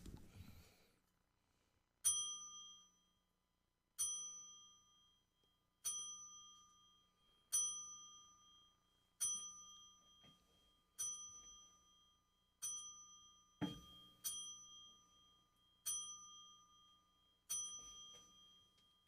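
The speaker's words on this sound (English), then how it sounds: "we're going to give Scott his 10 bell salute" Ten bell salute in wrestling tradition: a single bell struck ten times at slow, steady intervals, each clear metallic ding decaying before the next, faint and alone with no talk.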